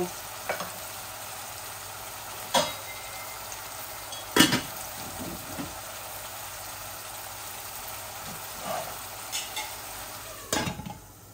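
Onions cook gently in a pot with a little water, a soft continuous sizzle punctuated by several sharp scrapes and knocks of stirring spread through the clip, close by with no voices.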